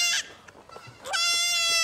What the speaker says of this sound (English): I knew it sounded like a goat or something.